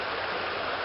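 A creek in Idaho runs high after two days of rain, a loud continuous rushing roar of water close by, with no voices.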